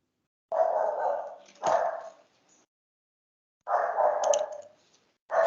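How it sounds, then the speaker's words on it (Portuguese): A small dog barks in a few sharp bursts separated by silence, fairly close and clear, picked up through an open microphone during an online class. "tem um cachorrinho latindo aí."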